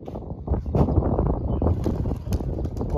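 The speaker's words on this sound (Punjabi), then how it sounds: "ਹਵਾ ਚੱਲਦੀ ਹੈ ਯਾਰ" Gusty wind blows across an open rooftop where pigeons are flown in the rain, a continuous low rumbling buffet against the microphone with no clear talk.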